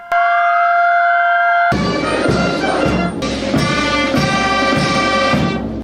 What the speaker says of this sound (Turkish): 2 dakika boyunca çalan sirenin ardından İstiklal Marşı hep bir ağızdan okundu.